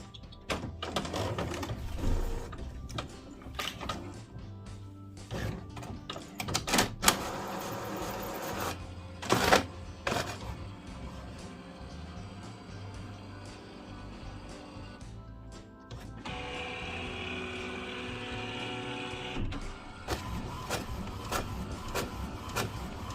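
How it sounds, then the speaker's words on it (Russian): An HP Officejet 6500 inkjet multifunction printer prints a black-and-white page: motors whir and clatter, the print head shuttles back and forth, and the paper feed clicks and buzzes. Close and moderately quiet, with no speech. "И теперь попробуем еще раз напечатать черно-белую."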